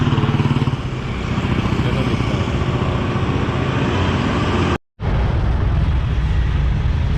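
A motorcycle rides on morning roads in Dehradun. The engine and wind make a loud, continuous close-up drone that cuts out briefly for a moment before resuming.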